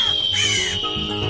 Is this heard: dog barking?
no